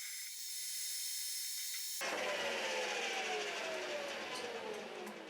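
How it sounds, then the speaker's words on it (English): A metal lathe with a cold-oiled headstock spins up and cuts, facing and turning down a bolt; a steady mechanical hum gives way after two seconds to a loud, broadband cutting and whirring noise that holds to the end. "because the oil in the lathe's headstock is very cold, it takes a lot longer than usual to come up to speed"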